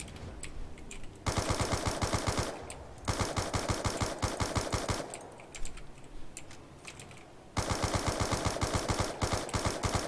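Automatic weapons rattle in Black Ops 2 zombies mode, with several long, dense bursts of rapid fire separated by short gaps, loud and close.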